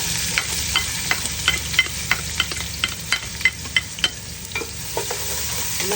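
Garlic sautés in hot oil, giving a constant close sizzle broken by regular sharp clicks and scrapes from stirring, with no voices.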